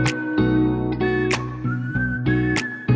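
Melodic whistling carries a tune over a steady musical backing, with sharp percussive hits punctuating the rhythm, in a Filipino love song.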